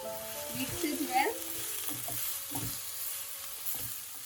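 Ginger garlic paste and dry spices fry in a pan, giving a soft steady sizzle with a few stirring scrapes and faint background sounds.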